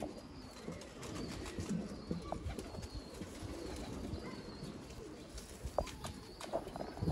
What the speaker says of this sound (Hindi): ये देखें जी शौक करें बड़े शौक वाले कबूतर।